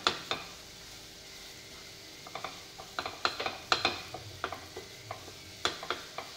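Mango semolina sheera is stirred in a pan with a spoon, producing repeated close scraping clicks and taps at an irregular pace over a faint sizzle.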